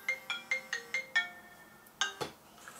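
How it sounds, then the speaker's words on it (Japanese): An iPhone 6 Plus rings with an incoming call: a bright melodic ringtone of six evenly spaced rising notes, a pause, then one more note with a clunky rustle, clear and close with no talking. "電話だ。"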